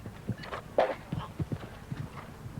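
Hooves of a thoroughbred show jumping horse clip-clop in a steady, fairly close rhythm of distinct clear strikes, with a short snort or whinny-like burst early on.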